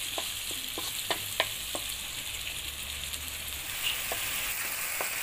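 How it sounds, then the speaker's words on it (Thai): Chili peppers frying in hot oil for a Thai frog stir-fry hiss steadily in the pan, with a handful of sharp pops and utensil taps early on, moderately quiet and without speech. "น้ำมันร้อนแล้วก็เอาพริกเข้าใส่เลยนะเจ้า คั่วพริกหอมนะเจ้า"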